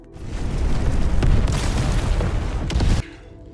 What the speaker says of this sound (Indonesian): dia akan meledakkan tempat ini